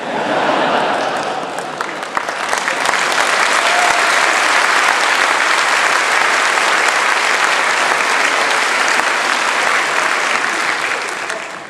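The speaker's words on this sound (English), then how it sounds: "I never get such nice applause from the Japanese dialect." Members of the United States Congress and guests at a joint meeting of both chambers give a loud, sustained ovation, thick continuous clapping that swells after a few seconds and holds before easing off at the end.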